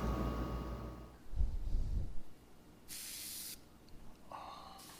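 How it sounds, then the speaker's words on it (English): An airbrush blasts paint onto a canvas, beginning with a breathy low rush and then giving short bright hissing sprays that start and stop, close and fairly quiet. "You pulled the trigger back way too far on the airbrush, which blasted paint onto the canvas"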